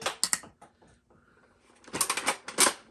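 A Nerf Elite 2.0 Flip-32 dart blaster firing foam darts one at a time: a few quick sharp clicks and snaps up close, a short pause, then a louder flurry of rattling mechanical shots.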